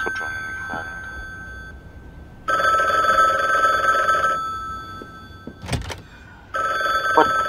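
A telephone rings in the video game The Bookwalker, two long bursts of bright electronic bell ringing separated by a pause with a brief thud and game sounds. Faint background noise sits under the rings.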